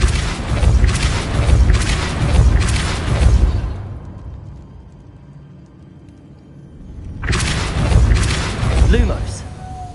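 A Depulso force spell is cast in Hogwarts Legacy, with loud booming whooshes and rumbling impacts filling the clip, a brief quieter lull in the middle, then another heavy burst of blasting sound.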